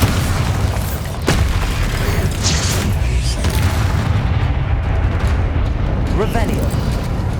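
A Bombarda blast spell goes off in Hogwarts Legacy, a deep rumbling boom amid a dense, continuous wash of game effects and background music, with speech running over it throughout.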